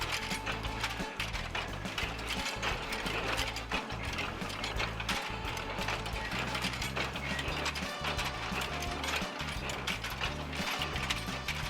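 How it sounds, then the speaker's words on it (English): A needle rolling machine in a sencha tea factory, rolling leaves under hot dry air, runs with a continuous mechanical rattle and clanking with a regular ratcheting rhythm, steady and close throughout. "are rolled while having a hot and dry air blown on them during chujuki, needle rolling machine"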